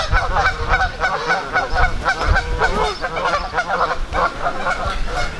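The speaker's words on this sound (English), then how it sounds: "Wow, the geese are a little loud." A flock of geese honking loudly and continuously, many overlapping calls close by, with a few quacks mixed in.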